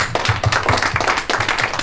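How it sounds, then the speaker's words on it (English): Seminar audience applauding, with dense, close handclaps in an irregular rhythm that keep going for about two seconds. "Let's give them a round of applause."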